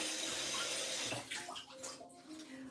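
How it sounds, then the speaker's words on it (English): Steady rush of running water from a kitchen tap as scallions are rinsed under it, close and continuous, with the splash shifting briefly as the onions move through the stream. "So I'm going to wash four bits of scallion"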